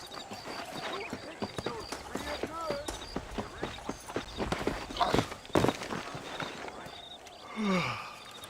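Steady rhythmic clip-clop of horse hooves on hard ground in Red Dead Redemption, moderately close, with occasional voices and breaths over the top.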